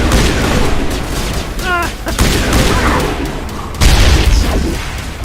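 A heavy blast and crackling gunfire in a Mass Effect Legendary Edition firefight, loud and close, with a sharp burst near the end and a voice calling out over the fighting.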